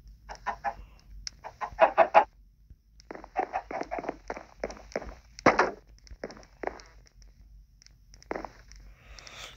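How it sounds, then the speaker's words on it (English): Four chickens cluck while following a person around a countryside farm, with bursts of short clucks close by and footstep-like scuffs in between. "These four chickens are following me"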